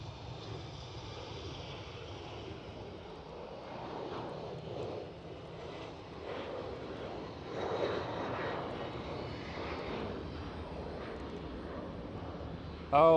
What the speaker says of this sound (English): KLM City Hopper takeoff.